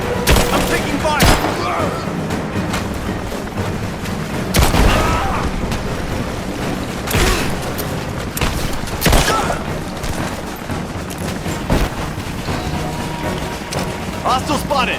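Gunfire in the video game Rise of the Tomb Raider, a dense, continuous exchange of shots with several louder bursts standing out, mixed with other game noise and voices talking throughout.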